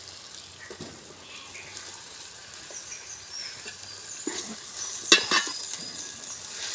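Ridge gourd pieces cook with softened onions in a pan for an egg and ridge gourd curry, giving a steady low sizzle with occasional stirring scrapes and a brief cluster of utensil clinks near the end.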